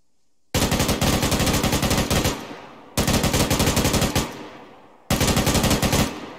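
Crew-served machine gun in a military video game firing sustained cyclic bursts, three long loud rattling strings of rapid shots separated by brief pauses, close and dominant with no voices.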